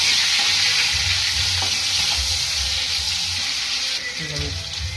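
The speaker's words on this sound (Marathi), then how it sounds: "टोमॅटो घ्यायचे टाकून मस्त असं त्याला फक्त 2 मिनिटं घ्यायचं, हे करून परतून घ्यायचं." Tomatoes sautéing in a hot pan for a paneer masala, a steady loud sizzle with faint stirring clatter throughout, no talk over it.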